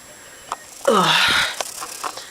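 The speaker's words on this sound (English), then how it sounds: "if I'm yawning and I'm breathing heavy" A woman thirty weeks pregnant gives one heavy, drawn-out yawning breath lasting under a second, framed by a few short, quieter sniffs and breaths before and after.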